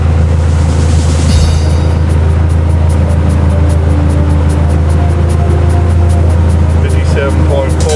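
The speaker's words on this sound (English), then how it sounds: "I'd say the AC system's cranking pretty good right now for the amplifiers." A car's air conditioning system blows cold air onto the amplifiers of a sound-quality competition vehicle. It makes a loud, steady whooshing rumble with a constant low hum, unbroken throughout.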